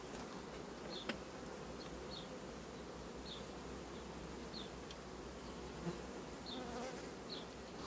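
A steady, dense hum of many honeybees droning continuously in an open hive, with a few brief higher buzzes of individual bees passing close by.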